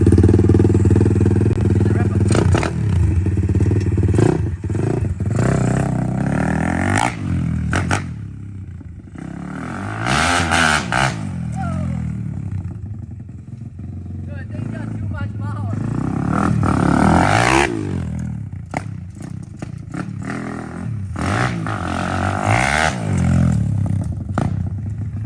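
Daytona 190cc Slowracer pit bike engine running and revving loud and close in a yard, rising and falling through repeated throttle blips with clattery mechanical noise, while someone talks over it.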